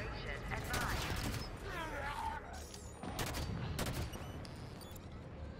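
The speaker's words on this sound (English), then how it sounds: "Oh no, it's a gun." Gunfire in the Halo 5 Guardians video game, with sharp shots and short bursts mixed with sci-fi weapon whines and effects at moderate volume, while people talk over the action.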